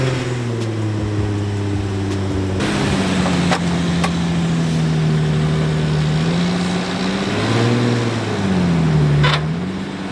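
Tow truck engine running steadily as it arrives to tow a crashed Infiniti G35, a loud close diesel-like drone that shifts pitch a few times, with occasional clanks over the continuous rumble.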